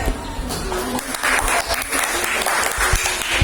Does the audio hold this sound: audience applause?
yes